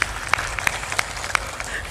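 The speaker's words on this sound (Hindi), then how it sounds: "ताली बजा देते।" An audience claps in sparse, rhythmic beats during a Hindi devotional talk on bhakti, with sharp hand-claps recurring roughly every third of a second over a murmuring background.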